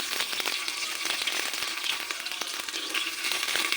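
Chopped onion hitting hot oil tempered with cumin for Maharashtrian masale bhat, giving a dense, steady sizzle with fine crackling throughout, close and fairly loud.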